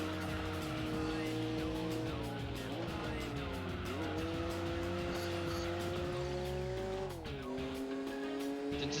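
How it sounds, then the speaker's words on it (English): A loud racing car engine in Gran Turismo 4 roars steadily, revving up and down through gear changes, with tires squealing at moments; no one speaks. "this is a really noisy car"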